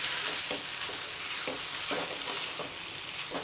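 Onion and crumbled paneer from curdled milk cook in a pan over a lowered gas flame, a constant hiss of frying with soft, evenly spaced stirring scrapes, close and without voices.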